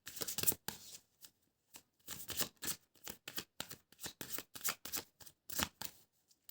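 A tarot card deck being shuffled, quiet close riffles and flicks in quick irregular bursts separated by short pauses, with no speech.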